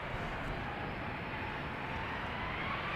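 A Boeing 737 on its takeoff roll at Amsterdam Schiphol gives off a constant, even jet-engine roar that holds steady and fairly distant throughout.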